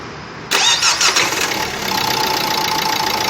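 After a short silence, a car engine cranks and catches, sputtering a few times before settling into a steady idle, at an auto repair shop while checking a seizing alternator pulley.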